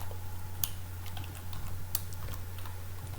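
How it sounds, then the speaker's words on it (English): Code is typed on a computer keyboard, with light irregular key clicks and a couple of sharper taps over a steady low electrical hum. "I'm gonna have to manually type that in."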